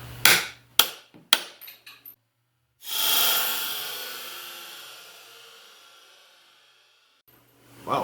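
A few sharp metallic strikes of a two-pound hammer on a long extension ring out close by while removing swingarm bearings from a 2008 Honda 400EX, followed by a long hissing rush that slowly fades, then another knock.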